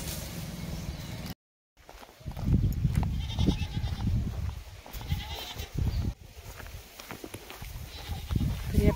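Goats bleat on a working farm amid a busy, continuous jumble of nearby farmyard noise and movement, after a brief silent gap at the start.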